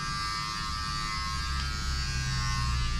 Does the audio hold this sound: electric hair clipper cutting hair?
yes